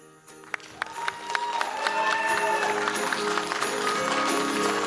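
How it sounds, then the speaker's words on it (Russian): A theatre audience applauds after a dance performance, with clapping building from a few sharp claps into steady applause that continues to the end. "Аплодисменты, друзья!"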